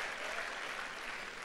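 A steady wash of audience applause at a talk on marriage, continuous and fairly distant, with no voices standing out.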